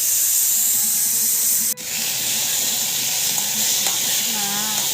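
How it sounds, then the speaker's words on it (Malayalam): Okra and tomato sautéing in oil with fried mustard seeds make a close, steady sizzle, with a short scraping stir partway through. "കടുക് വറുത്തതിലേക്ക് ഞാൻ വെണ്ടക്കയും തക്കാളി"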